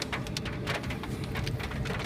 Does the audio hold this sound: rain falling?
yes